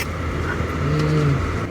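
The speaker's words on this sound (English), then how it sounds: "So much traffic." A steady engine hum from cars crawling through a traffic jam on a road in Dali, Yunnan, with a low idling drone that swells slightly partway through and no voices.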